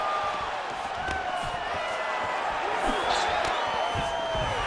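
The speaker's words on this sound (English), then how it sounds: "can you hear the reaction from the crowd as another outside leg kick lands?" Crowd in the UFC 4 video game reacting as an outside leg kick lands, a steady murmur of cheering and whooping under continuous commentary.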